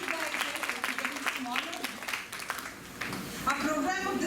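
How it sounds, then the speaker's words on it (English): A round of applause for teaching staff at a school science day program, clapping from the audience mixed with voices talking over it throughout. "Big round of applause for our teaching staff."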